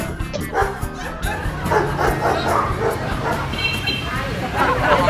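A small dog barks and yips repeatedly in quick bursts, close and loud, over a steady murmur of crowd chatter in an indoor space.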